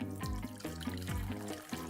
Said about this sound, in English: I'm going to pour that through the sieve